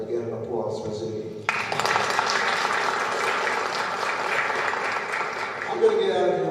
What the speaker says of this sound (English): Again, an applause for Ziggy.